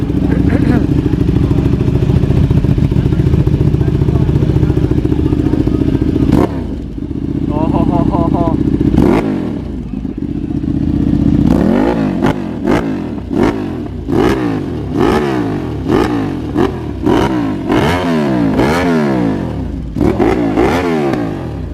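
A Ducati V4 Superleggera motorcycle engine idles with a steady rumble, then blips into a rapid series of sharp revs, rising and falling repeatedly, loud and close, with voices in the background.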